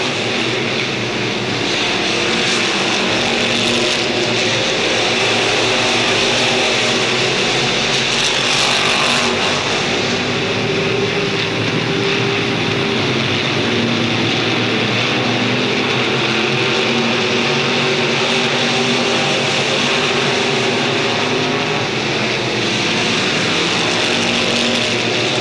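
Crate modified race cars roar around a dirt raceway in an October night race, a loud continuous engine drone that swells and fades slightly as the cars pass.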